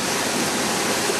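Kern River rapids rushing over rocks, a dense, steady roar of whitewater filling the whole clip, loud and close with no pauses.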